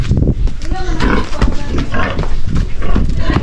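Pigs grunting and snorting up close in short, rough bursts, with a voice talking over them.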